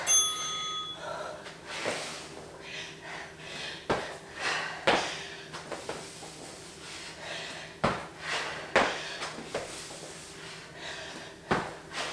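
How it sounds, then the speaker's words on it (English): A workout timer bell rings once at the start of a bodyweight HIIT cardio session, a bright ringing tone followed by repeated thumps, shuffles and heavy breathing from exercise. "We're on at the bell."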